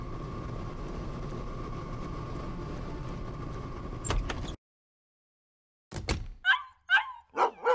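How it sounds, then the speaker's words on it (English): In the video game Dead to Rights, after a steady mechanical hum and a pause of silence, a dog barks several times in a sharp, close burst. "That's Shadow barking."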